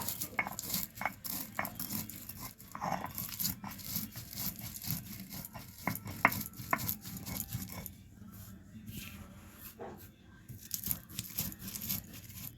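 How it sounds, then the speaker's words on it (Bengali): Dry-roasted spices are ground on a shil nora grinding stone, with irregular rough rubbing and scraping strokes close by that continue for several seconds, then thin out into quieter, sparser scrapes. "সেই মশলাগুলোকে আমি শিলনোড়ায় এবার বেটে নেব"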